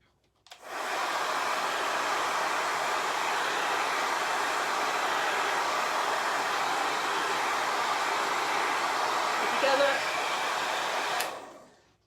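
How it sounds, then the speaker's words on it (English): A blow dryer whirs steadily at close range over a chalk craft project for about ten seconds, a constant airy roar that starts and cuts off abruptly. "I'll take the blow dryer to that."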